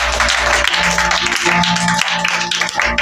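A church congregation applauds during worship, loud sustained clapping mixed with crowd voices and an instrument underneath.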